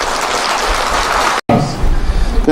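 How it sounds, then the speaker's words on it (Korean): An audience at a book launch event breaks into loud, sustained clapping that cuts out briefly and then resumes as a dense burst. "이 네 분께 여러분 다시 한번 큰 박수 부탁드립니다"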